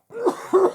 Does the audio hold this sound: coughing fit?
yes